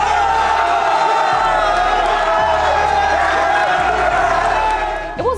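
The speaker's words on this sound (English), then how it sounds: "some of the fired up crowd that was in attendance" A fired-up esports crowd cheers at a semi-final event, a dense, loud, continuous roar of shouting voices with a repeating low thumping underneath.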